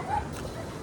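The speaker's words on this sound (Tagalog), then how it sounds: "Dala akong aso, guys." A dog gives a short whimpering yip outdoors, brief and moderately close, with low background noise.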